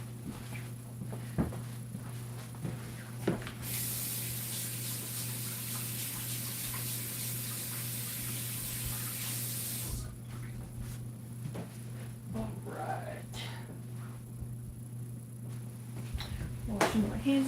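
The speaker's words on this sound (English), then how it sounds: "Washing my hands again because I got butter all over myself." Water from a sink tap runs as someone washes buttery hands in a home kitchen, a steady hiss lasting several seconds amid faint clatter and background hum.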